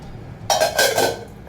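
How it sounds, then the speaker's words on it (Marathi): A metal lid goes onto a kitchen pot with a clattering clang and brief ringing rattle, loud and close after a quiet moment. "आता ठेवते, झाकून ठेवते"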